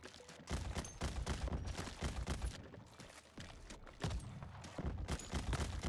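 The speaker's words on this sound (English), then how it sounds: "Why does their sniper sound so much more intense" Heavy sniper rifle shots ring out in the video game Crab Champions, a series of loud, booming blasts spaced roughly half a second to a second apart, each with a sharp attack and lingering tail.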